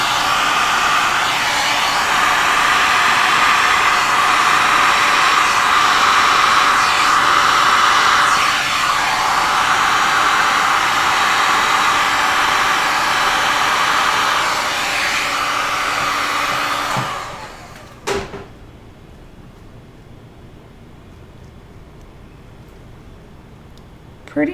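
A heat gun on a low setting blows a steady, loud airy roar over resin for about seventeen seconds, then cuts off, leaving near silence and a couple of clicks.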